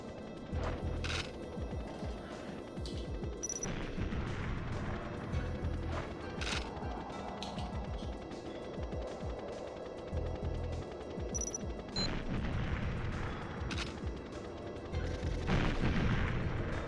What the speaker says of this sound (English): Oh, he was gonna throw a hand grenade at me.